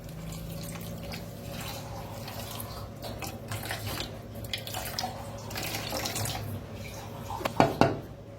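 Water runs steadily into a bowl to soak semolina (rava), a continuous soft splashing flow with a couple of louder clunks near the end.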